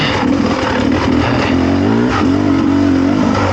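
A Beta 300RR two-stroke dirt bike with a low-compression head revs hard while riding in second gear off-road, a loud, close, raspy engine note rising and falling continuously.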